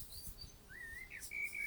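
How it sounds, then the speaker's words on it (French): Birds sing in a forest, a few faint, scattered chirps and rising whistled notes heard at a distance over a quiet background. "plus vous entendez le chant des oiseaux"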